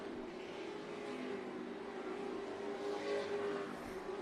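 NASCAR Weekly Series race cars at Tucson Speedway, a steady distant roar of several engines droning around the oval with a slight swell toward the end, no voices.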